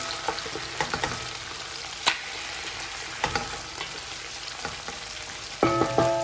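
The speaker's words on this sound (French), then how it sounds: "On va mettre l'ail. On va remuer rapidement. On va laisser saisir un petit peu." Garlic sizzles in a paella pan alongside browned chicken for a seafood, chorizo and chicken paella, a steady close fry broken by quick scraping clicks of stirring and a bright metallic clink near the end.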